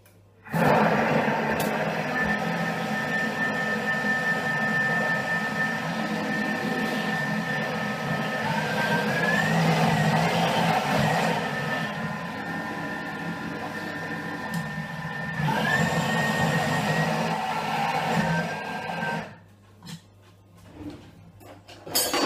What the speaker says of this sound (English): I'm going to do that with the Thermomix. It's going to be a little bit noisy